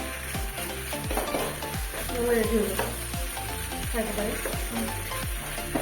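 Milk-and-butter base for homemade mac and cheese white sauce pasta sizzles in a pan, with a steady fry broken by regular clinks and scrapes of a spoon stirring, close and without speech.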